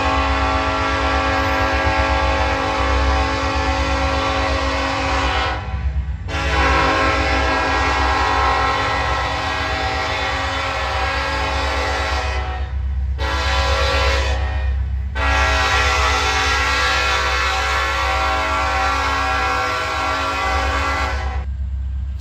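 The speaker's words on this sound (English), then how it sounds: "the first train pulled back out" A freight train passes a road crossing in Austell, Georgia, sounding long, loud horn blasts separated by short breaks over a steady rumble of rolling cars.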